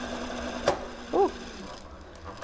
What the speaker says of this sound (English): So that is the bobbin winder telling me that it's done, but this bobbin is nowhere near full.